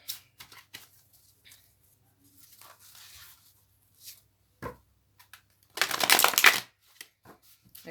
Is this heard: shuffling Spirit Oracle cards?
yes